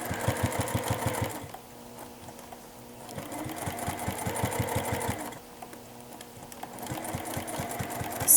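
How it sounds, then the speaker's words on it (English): A sewing machine stitches a zipper pouch in rapid, steady bursts of needle strokes, stopping briefly between runs as it backstitches past the opening; close and clear, with no talking. "Stitch a little bit past my opening, back stitch."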